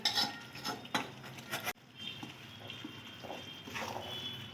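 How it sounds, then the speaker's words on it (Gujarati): Roasted mawa being stirred into an adadiya flour mixture in a pan, with soft repeated scraping and a spoon knocking lightly against the metal. "આપણે અહીંયા માવાને સરસથી મિક્સ કરી લઈશું"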